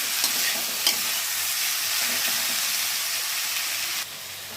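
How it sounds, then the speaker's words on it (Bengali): Semolina (suji) sizzles in a little oil in a frying pan while being stirred, a steady close frying hiss broken by a few scraping strokes, with no talking. "আমি এই দিকে একটা ফ্রাই প্যানে একটু তেল দিয়ে আমি সুজিটাকে ভেজে নেব।"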